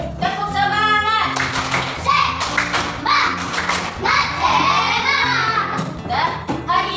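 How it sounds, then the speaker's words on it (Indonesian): Classroom children doing a rhythmic spirit clap (tepuk semangat) in an Indonesian grade-four lesson, bursts of patterned hand claps mixed with young voices chanting and calling out. "Tepuk semangat."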